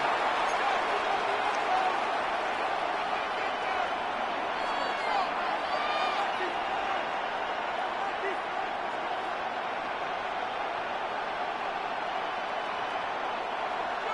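Crowd noise fills a football stadium during an American football video game, a steady dense roar with the commentator talking over it throughout.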